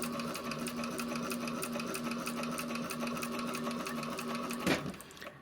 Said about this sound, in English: There is something about sewing machine sounds that is like ASMR to my heart.